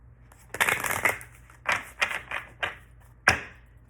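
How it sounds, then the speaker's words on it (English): A deck of tarot cards being shuffled in several short, crisp bursts, close by, with quiet pauses between riffles and no talking. "I'm just going to shuffle and open and pick a card."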